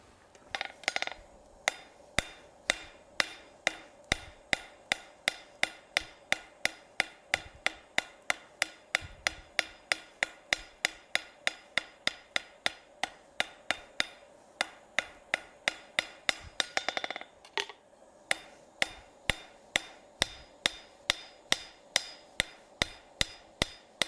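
Metal stock is hammered into a hoop for a medieval-style piece, dozens of sharp, ringing blows landing in a steady, brisk rhythm, close and clear, with a short cluster of quicker strikes partway through.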